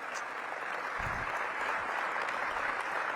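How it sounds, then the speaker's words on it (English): A large room of attendees at an economic partnership annual meeting applauds, a steady, fairly distant wash of clapping with no distinct individual claps and no talk over it. "Give him a big round of applause."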